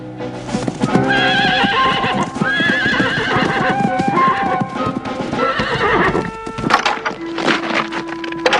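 A horse neighs loudly and whinnies several times while hooves clip-clop, close and prominent, with other clattering and a sustained tone near the end.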